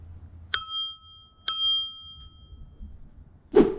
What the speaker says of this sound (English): It has a bike bell.